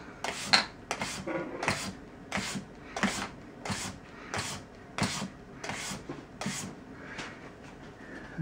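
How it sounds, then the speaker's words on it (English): Steady, close rasping strokes, about ten in a slow even rhythm, as very fine grit is filed across the felt crown of a Steinway L piano hammer, with no talking. "now I'm going to use the very fine grit to come over the top of the crown."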